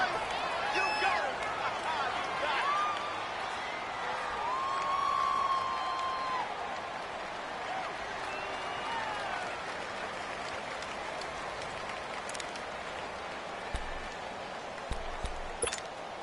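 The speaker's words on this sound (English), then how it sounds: "The crowd getting into it as we come up on a big 3rd down" Stadium crowd in a PS4 American football game rising ahead of a big third down, a diffuse roar and cheering held under play-by-play commentary, swelling early and then settling into a steady background murmur.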